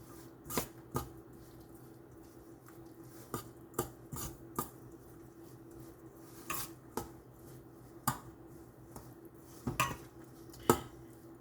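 Egg roll seasoning is mixed in a bowl, with repeated sharp utensil clinks and taps against the dish at irregular intervals over a quiet background, no talk.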